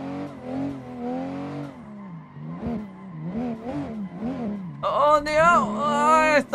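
A car drifts through a corner in a drifting video game with a sustained engine whine that rises and falls, then sharp tire squeal near the end, under a speaking voice.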